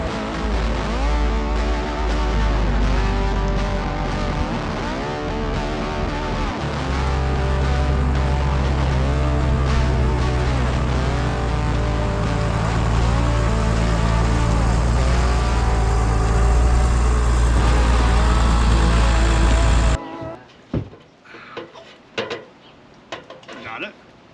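A pressure washer cleans the hull of a sailboat out of the water, running with a loud, steady motorized drone and whine for about twenty seconds before cutting off abruptly. Scattered clunks and quieter noises follow.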